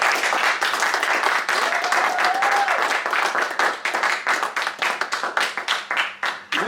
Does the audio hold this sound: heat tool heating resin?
no